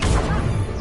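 The Descendo spell is cast in Hogwarts Legacy, a short, dense, loud crashing whoosh that slams down and fills the whole moment.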